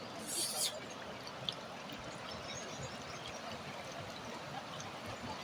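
River swollen after a dam release flowing in a steady low rush, continuous and moderately distant, with a brief brighter splash near the start.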